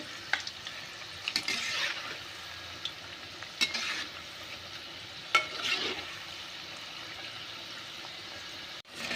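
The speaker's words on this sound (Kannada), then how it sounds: "ಮೊದಲಿಗೆ ನಾವು ಲೋ ಫ್ಲೇಮಲ್ಲೇ ನಾವು ಇದನ್ನ ಆಯಿಲ್ನ ಕಾಯಿಸ್ಕೋಬೇಕಾಗುತ್ತೆ" Bonda batter fries in hot oil on a low flame, with a soft continuous sizzle broken by a few sharp stirring clicks and scrapes from a utensil in the pan, with no voices.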